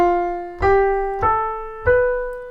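Four sustained pitched notes from a single instrument in an E Phrygian run with a flat second, F natural, each struck cleanly and left ringing into the next, evenly spaced, moderately loud, no voices.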